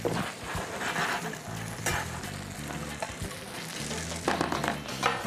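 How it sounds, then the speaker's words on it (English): Stuffed French toast sears in a pan with a loud, constant sizzle that fills the whole stretch, with light scraping and pressing noises mixed in. "I'm just gonna press down on them just a little bit so I get that nice even sear."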